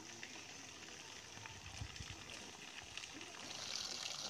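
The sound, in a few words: waste water trickling out of a pipe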